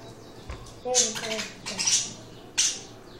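Pet parakeets, two pairs and a female, kept in a cage give a few short, high chirps and squawks in quick bursts, faint and fairly close over a quiet room with low rustling.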